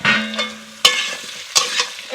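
Chopped ridge gourd tipped into a pan of frying potato and pumpkin, a loud sizzle followed by a few scraping stirs with bursts of crackling, close up.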